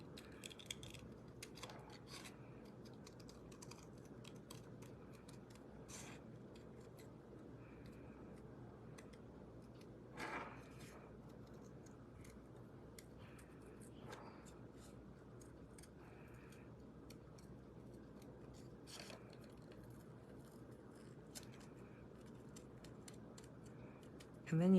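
Quiet snipping of scissors fussy-cutting cardstock for a Stampin' Up! craft kit, scattered soft clicks and cuts at an irregular pace over a low background hum.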